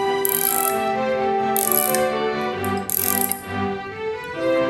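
A ratchet cinches down rear axle bolts in a cross pattern during axle assembly, giving several bursts of quick, close metallic clicking with brief pauses between them and no talk.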